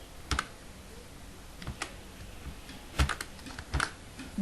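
Typing on a computer keyboard, with scattered clusters of crisp key clicks in an irregular rhythm, close and fairly clear, and no speech.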